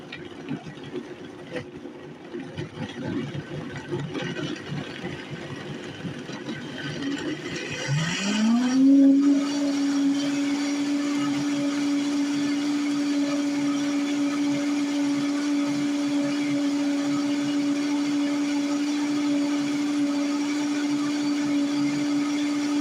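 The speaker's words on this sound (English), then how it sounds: "a really high quality blender that like blends everything super fine" A high-powered blender churns a carrot smoothie. A rough, fluctuating grind rises after several seconds into a loud, steady high whine that holds evenly to the end.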